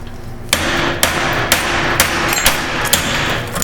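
Hammer strikes on the studs of a Chevy 2500 drive shaft center support bearing, about seven sharp metallic blows at a steady half-second rhythm over a constant background drone.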